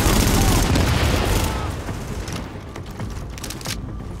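Gunfire in the video game Tom Clancy's The Division, Dark Zone, a loud dense burst of rapid shots and booms that fades into scattered cracks, with players talking.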